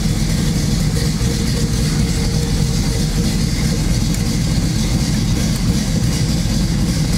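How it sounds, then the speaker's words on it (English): A 1969 Pontiac Firebird V8 with Holley Sniper EFI runs steadily at idle, a loud, constant low rumble filling the whole stretch close by with no talk over it. "the car starts up, runs, sounds great"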